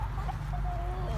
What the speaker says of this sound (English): Chickens, chickens, chickens.